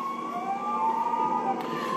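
A police car siren in the video game LEGO City Undercover, a loud steady electronic wail with a rising pitched tone, close and continuous over a low engine hum.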